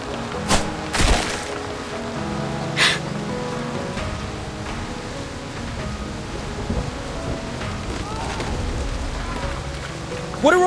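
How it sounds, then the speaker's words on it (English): Heavy rainstorm in the video game Reverse: 1999, a steady dense wash of falling rain with a few sharp thunder-like cracks and rumbles near the start and end. "What kind of storm is this?"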